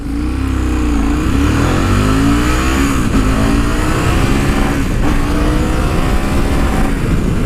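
A KTM 1050 Adventure motorcycle engine revs up hard under acceleration on the road, with a loud, steady roar and rising, sweeping tones that continue without a break and with no talk.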